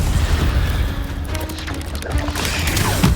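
Incendio fire spell cast in Hogwarts Legacy, a short deep whooshing boom with crackling impact over steady game background, fairly loud and close.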